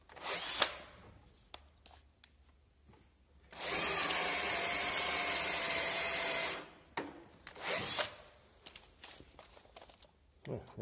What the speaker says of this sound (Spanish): voy a hacer el agujero con una broca de 7